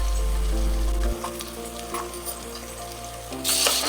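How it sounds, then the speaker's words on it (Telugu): Onion pieces with half a teaspoon of salt fry in a pan, giving a steady close sizzle with a few stirring scrapes and a louder burst of hiss near the end. "ఇప్పుడు 1/2 టీ స్పూన్ ఉప్పు వేసుకుంటే ఉల్లిపాయ ముక్కలు తొందరగా వేగుతాయి"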